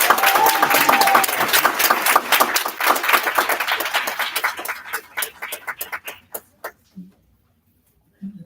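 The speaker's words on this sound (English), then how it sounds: "Everyone, with a loud round of applause, please let's welcome Mr." An audience at an awards celebration gives a loud, dense round of applause to welcome a speaker to the stage, then thins to scattered individual claps before dying out.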